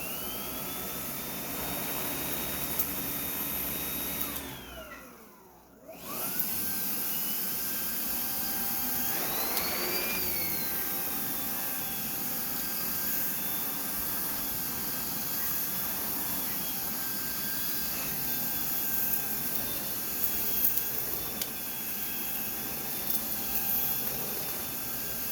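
Cordless Nacecare RBV 150NX backpack vacuum running on a higher setting: a steady, loud whining roar with a rising motor tone, briefly cutting out then spooling back up, continuing without talk.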